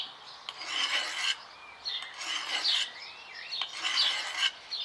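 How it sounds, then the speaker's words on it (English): Double-sided bill hook blade sharpened with a canoe stone, rhythmic rasping strokes close by, about three long scrapes with faint birdsong in the background. "I get this canoe stone and I just sharpen that down the cutting edge"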